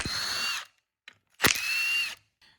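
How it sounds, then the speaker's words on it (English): A power drill spins bolts out of a Polaris Ranger 570 during a repair of a reverse-gear fault, with two close, loud whirring bursts separated by brief clicks and pauses. "Then we're going to remove our bolts."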